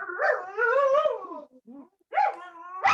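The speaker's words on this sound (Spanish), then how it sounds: "alguien tiene un perrito ladrando por ahí, tiene el micrófono abierto." A small dog barks and yips over an open microphone during an online poetry gathering, several high, clear, loud yaps in quick bursts with a short gap, heard alone without talk.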